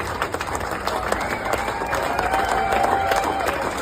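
An airport crowd claps and cheers for returning troops from an honor flight, dense rapid applause building steadily and staying loud throughout, with voices mixed in underneath.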